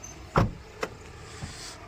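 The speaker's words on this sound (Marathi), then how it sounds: "गाडी लॉक करून खाली उतरत आहेत" A car door thumps shut, followed by a short electronic lock chirp and a faint click, quiet and close by.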